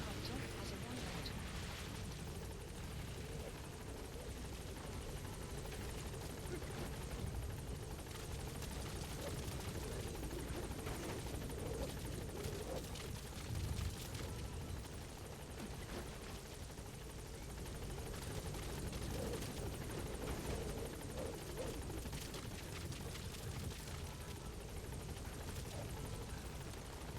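A support helicopter arrives in Metal Gear Solid V: The Phantom Pain, its low rotor drone running steadily throughout beneath game sounds and talk.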